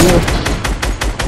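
Video game gunfire, a fast, even string of about seven loud, close shots in quick rhythm, with a voice briefly heard at the start.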